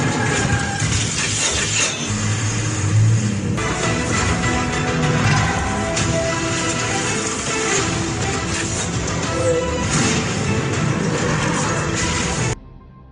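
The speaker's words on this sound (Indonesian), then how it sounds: "Truk-truk itu berhasil dijatuhkan." Trucks are knocked over and crash during an action scene in a film, heard as a loud, dense, continuous rumble of crashing, grinding and engine noise lasting most of the clip before cutting off abruptly near the end.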